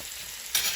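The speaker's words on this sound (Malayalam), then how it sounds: "2 സൈഡിലൊന്ന് കളറൊക്കെ ഒന്ന് മാറി ഷാലോ ഫ്രൈ ആയിട്ട് വരണം" Chicken shallow frying on low heat in a pan: a steady soft sizzle that swells louder for the last moment, with no voices.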